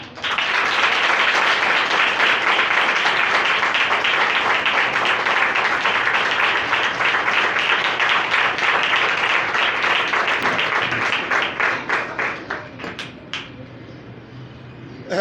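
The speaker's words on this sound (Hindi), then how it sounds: "आप जोर से ताली बजानी है।" Loud audience applause at a church gathering in Karachi, a dense wall of clapping from many hands that holds steady for about eleven seconds, then thins into scattered individual claps and fades out.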